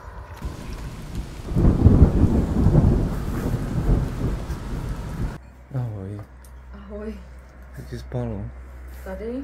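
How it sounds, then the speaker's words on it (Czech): A thunderstorm with heavy rain rumbles and roars for about five seconds, then cuts to a quieter scene where people talk over a low hum. "Ano, byla bouřka."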